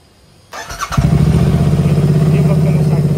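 Royal Enfield Interceptor 650 motorcycle cranking briefly, then firing into a loud, close, steady parallel-twin idle that holds to the end.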